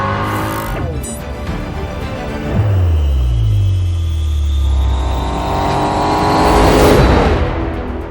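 A Ford Mustang GTD racing flat out on the Nürburgring Nordschleife, its engine revving hard through rising gear pulls and a sharp shift, loud and close with a roaring whine and no talk.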